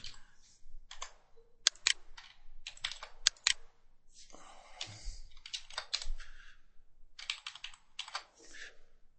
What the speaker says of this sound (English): click on this particular button and start typing in